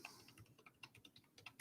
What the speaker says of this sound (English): Now, as I'm typing this in